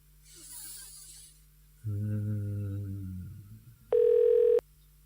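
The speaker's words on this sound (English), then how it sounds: "It's ringing." A low electronic ring tone hums for a couple of seconds, followed by a short, bright, harsh electronic tone.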